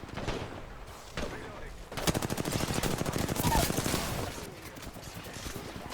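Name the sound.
gunshots in video game Apex Legends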